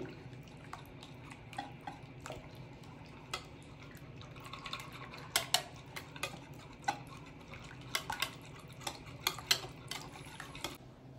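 Eggless chocolate cake batter with vanilla essence being beaten in a bowl, soft steady scraping and stirring with sharp clinks of the utensil against the bowl, clustered in bursts, fairly quiet and without talk.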